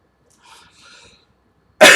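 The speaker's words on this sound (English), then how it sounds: "I'm so upset I'm making myself cough more" A single sharp, loud cough from a sick adult man, close to the mic, coming after a few faint breaths and murmurs.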